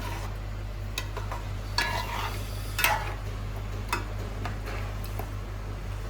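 Fish curry with tamarind juice stirred in a pot, a few soft scrapes and knocks of the spoon at irregular intervals over a low steady hum, with no talk.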